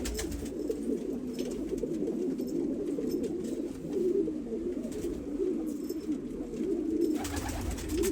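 Pigeons coo continuously in a bird loft, a dense, low, throaty murmur of overlapping calls from several birds nearby, with no talking.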